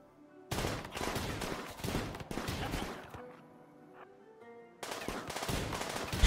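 Colonists' guns firing at a pack of pugs in the video game Rimworld: dense bursts of rapid gunfire, loud and close, with a short lull in the middle before the shooting resumes.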